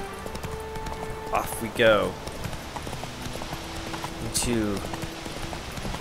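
Horse hooves in The Witcher 3: Wild Hunt, a steady galloping clip-clop with a few soft whooshes, running under a man's speech.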